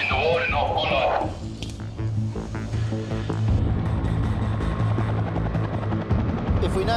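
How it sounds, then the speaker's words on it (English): A New South Wales Police helicopter, Polair 1, flies overhead above North Bondi beach, its rotor throbbing loudly and steadily throughout, with a brief voice near the start. "New South Wales Police helicopter Polair 1 appears over North Bondi."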